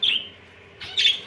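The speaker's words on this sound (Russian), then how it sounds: "Птички есть, попугайчики." Small parrots in a pet shop give two bright, short chirps separated by a brief pause, close and fairly loud against a quiet room.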